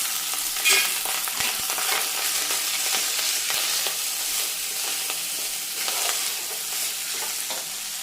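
Cooked rice is stirred through a hot pan for lemon rice with a little turmeric, giving a steady close sizzle and the scrape of a spoon throughout, with no talking.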